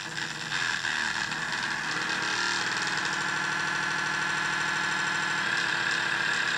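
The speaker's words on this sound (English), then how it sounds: "It's got kind of like an engine sound here." A homemade amplifier puts out a steady, dense, buzzing drone with a throbbing, engine-like rumble. It is loud and continuous throughout, with no voices over it.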